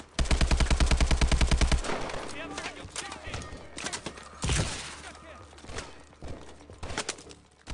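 Rapid automatic gunfire from a futuristic weapon in Call of Duty: Advanced Warfare, a dense burst up front, then scattered shots and impacts with someone talking over the game action.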